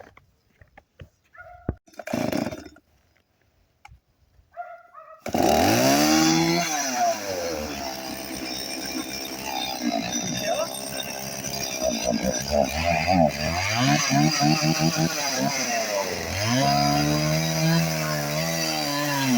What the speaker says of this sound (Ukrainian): зараз перевіримо штіля, як штіль ріже